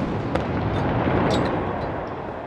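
Ceremonial gun salute firing at a presidential inauguration in Rwanda, a heavy deep boom that rolls on as a continuous roar across the whole span, loud and outdoors.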